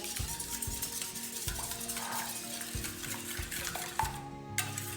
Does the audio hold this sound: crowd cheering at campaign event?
no